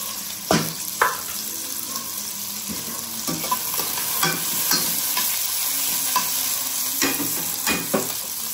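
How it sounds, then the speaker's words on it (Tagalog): Salmon frying in a pan, a continuous close sizzle broken by repeated scraping and clinking strokes of a utensil, with no voices. "ilagay natin ang salmon."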